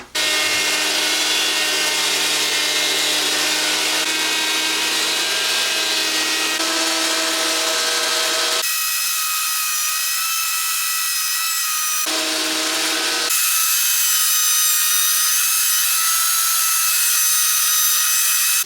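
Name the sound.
planer machine planing wooden boards for a table top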